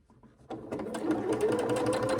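A sewing machine stitching fabric for an XXL scrunchie starts up after a brief pause and runs steadily, its fast needle rhythm close and continuous with no talk.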